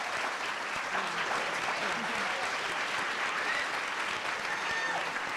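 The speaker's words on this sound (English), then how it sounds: "big round of applause to all finalists" Steady applause from an audience fills the whole stretch, dense clapping at an even level with no voices above it.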